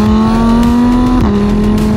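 A V10 car engine revs hard and close, a loud sustained tonal howl that holds, then drops slightly in pitch partway through.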